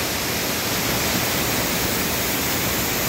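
The Bagmati river waterfall at Sundarijal roars as a dense, constant rush of falling water, loud and close with no pauses or voices.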